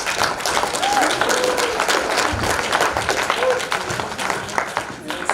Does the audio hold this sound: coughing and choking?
no